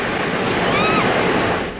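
Ocean waves along the Southern California coast rush in a loud, steady wash of surf, with a faint tonal whistle briefly audible in the middle.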